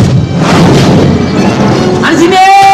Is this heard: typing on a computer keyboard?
no